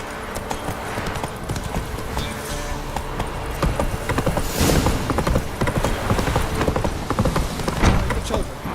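Roach the horse galloping in The Witcher 3, a steady run of rapid hoofbeats across the whole stretch, close and loud, with a few heavier thuds near the end.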